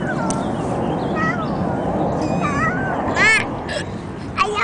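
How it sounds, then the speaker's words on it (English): A four-week-old kitten at a kitten park in New York gives several thin, high meows, the brightest cries coming near the end. Steady broadband background noise sits underneath throughout. "And my baby cat,"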